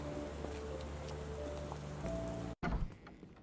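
Steady rain falls in the Sherlock Holmes: The Awakened video game, a soft continuous hiss with faint tonal hum beneath, briefly cutting out before resuming with scattered drops.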